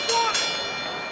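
Round-end bell in the Fight Night Champion boxing video game, a brief bright ring that decays over about a second, with crowd noise and some commentary behind it.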